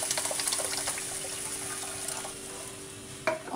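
Water is poured into a pan for rawa upma (semolina), giving a steady splashing rush for a few seconds, alone without talk.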